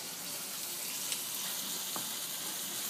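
Beef frying in a pan with onions and garlic, a steady broadband sizzle running evenly throughout with a couple of brief clicks, close and moderately loud, with no talking.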